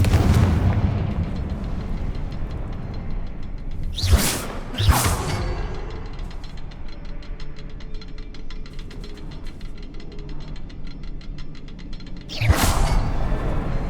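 A Confringo fire spell explodes in the Hogwarts Legacy video game, heard as loud booming blasts with whooshes over a dense, rumbling game soundscape, two hits close together early and another near the end.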